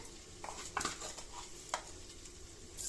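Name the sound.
cumin and curry leaves sizzling in oil in pressure cooker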